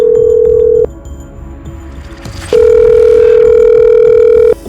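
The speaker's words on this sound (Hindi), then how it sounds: "फिर इतने सालों बाद एक बार फिर दाऊद ने यशश्री को फोन किया।" A telephone ringback tone sounds for an outgoing call, two loud, steady electronic tones with a silent gap between them.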